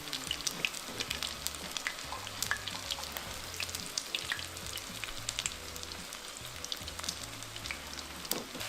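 Ground beef taquitos fry in hot oil with a steady close sizzle and scattered sharp pops and crackles throughout, no voices.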